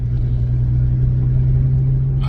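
A car drives along a mountain road with a light dusting of snow, its engine giving a steady, loud low rumble with a constant hum throughout and no other sounds standing out.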